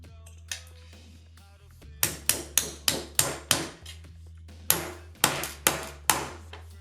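A screwdriver used as a drift taps a pin out of an airsoft gun kit, giving about a dozen sharp metallic knocks in short steady runs, close and clear over a low hum.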